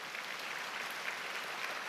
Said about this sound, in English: Those two deserve an extra round of applause too